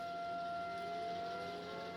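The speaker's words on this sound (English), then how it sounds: "That's a tornado siren." A tornado siren sounds during a drill, a steady wailing tone held at a distance, slightly shifting pitch, with nothing else heard.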